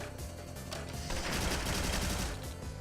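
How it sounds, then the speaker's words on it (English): Rapid machine gun fire in a video game, a dense sustained burst of loud automatic shots lasting a couple of seconds, with no talking over it. "let's drop a machine gun for funsies"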